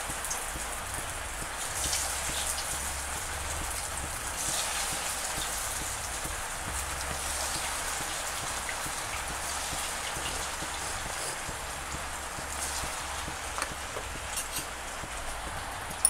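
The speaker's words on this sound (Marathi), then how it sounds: "वर पावसाचा आवाज भरपूर यायला लागलेला आहे, पाऊस चालू आहे।" Heavy rain pours steadily on the roof above a home kitchen, a dense, even, constant patter with no pauses and no voices.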